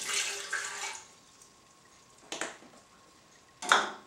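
Water pours into a bread maker pan as the first ingredient for pizza dough, heard as a short splashing pour followed by two brief bursts of running water.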